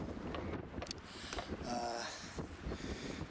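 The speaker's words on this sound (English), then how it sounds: "Wind's got up, clouding up." Wind gusting across an outdoor home garden and vegetable plot, a steady broad rush buffeting the microphone throughout with faint scattered knocks, no voices.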